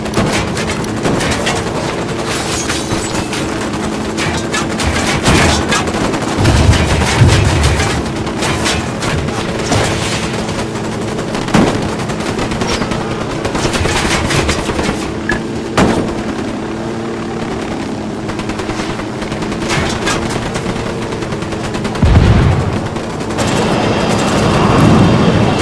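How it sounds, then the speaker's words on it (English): Sustained combat gunfire from the game Ghost Recon Wildlands rattles loud and continuous, with bursts and heavier impacts over a steady helicopter-like drone throughout. "Open fire."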